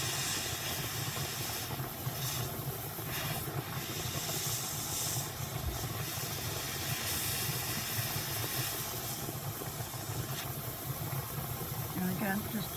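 Steady hissing steam, as from a kettle or steamer used to block carded wool batts, runs continuously and fairly loud through the whole stretch with faint background noise.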